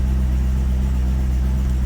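A 1978 Mercedes-Benz 450 SL with high mileage idles nearby with a steady, loud, low rumble that holds an even tone throughout.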